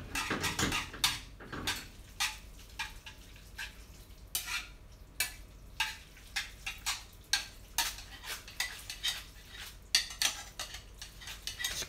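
Puttanesca pasta is tossed with its sauce in a home kitchen pan, giving a run of light metallic clinks and taps at a roughly steady pace with soft wet stirring between them.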